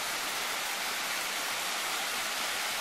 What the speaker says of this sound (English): you can get an idea how beautiful this spot is with the sound of the rushing water